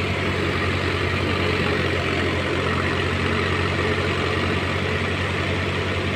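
A Swaraj 735 tractor about 20 years old idles with a steady low diesel rumble, close and constant throughout without changes in pace, and no one speaks.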